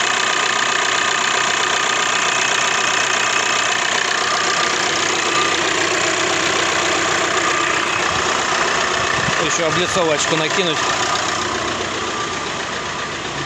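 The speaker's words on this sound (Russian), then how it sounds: "Моторчик работает отлично." A Volkswagen Crafter 2.0 TDI diesel idles steadily and close by after a cylinder head repair, with a knocking engine drone running throughout while someone speaks over it briefly.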